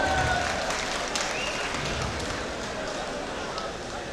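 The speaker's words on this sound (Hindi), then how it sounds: "एक बार ताली बजाकर मुझे इजाज़त दे दीजिएगा" Audience applause at a Hindi-language stage concert, heard just before a song begins; dense, steady clapping fills the clip at a fairly even level, a broad crowd sound with no clear individual claps.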